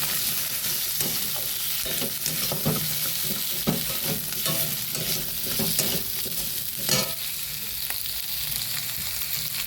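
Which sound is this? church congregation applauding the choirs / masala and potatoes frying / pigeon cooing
masala and potatoes frying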